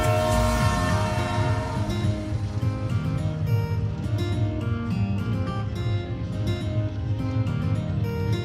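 The 12041 Howrah–NJP Shatabdi Express rumbles past Bolpur station, heard as a loud, continuous low roar. Faint rattling rides over the roar without a break.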